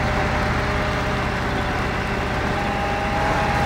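Off-road truck engine in the Spintires game droning steadily at close range, a loud, even low rumble with no talk over it.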